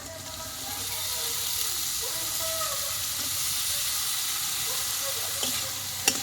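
Jackfruit seeds tipped into a hot pan of softened tomato, giving a steady close sizzle and hiss with faint stirring scrapes and a small clink near the end.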